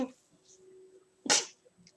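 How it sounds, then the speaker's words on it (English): One sharp, loud sneeze bursts out close to the microphone in a quiet room, with light breathing before and after. "I had a sneeze."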